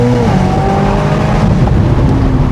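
Corvette ZR1 supercar accelerating hard, its engine note loud and close from inside the car, rising in pitch as it pulls with a steady, continuous roar.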